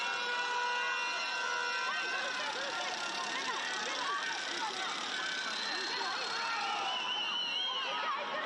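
Stadium crowd at a women's under-17 football qualifier, Dominican Republic against Costa Rica, a steady dense roar of many voices with scattered shouts, continuous and fairly loud throughout.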